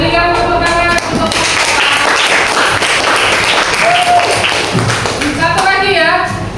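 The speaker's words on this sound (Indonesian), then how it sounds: "Berikan tepuk tangan untuk" Classroom audience applause for a student during a school counseling session on managing emotions, dense clapping running throughout with voices and children's speech mixed in.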